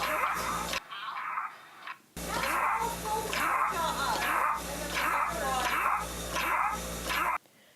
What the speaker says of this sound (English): That sound that you're hearing is called stridor.